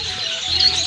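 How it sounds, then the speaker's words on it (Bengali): Birds chirping at a bird seller's place, a high, bright twitter that rises and gets louder toward the end of the short stretch, with no voices over it. "দেখো অনেক পাখি আছে"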